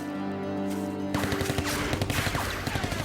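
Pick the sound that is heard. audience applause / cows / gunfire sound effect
gunfire sound effect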